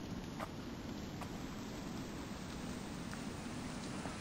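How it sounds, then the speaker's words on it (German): Rain pours down in the survival video game The Infected, an even, continuous wash of falling drops with a few faint clicks scattered through it and no one speaking. "Jetzt regnet es."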